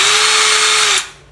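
A Bosch electric drill, a three-function or two-function model with speed control and reverse, runs at a steady high whine, loud and close, then cuts off and spins down near the end.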